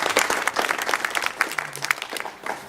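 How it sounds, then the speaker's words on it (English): Steady applause from a rally crowd, many hands clapping together at close range, sustained for a few seconds without voices. "Give him a big round of applause."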